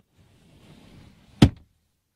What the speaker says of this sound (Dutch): de deuren laten zich ook lekker soepel sluiten